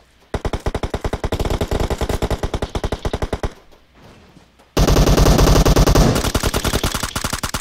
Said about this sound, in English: Oh, we're getting shots from both sides.